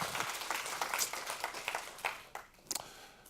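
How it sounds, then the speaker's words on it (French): Audience applause at a French tech conference talk, a scattered, thin patter of claps from a modest crowd, fading in and out with a few louder bursts toward the end. "Merci Olivier, vous pouvez l'applaudir."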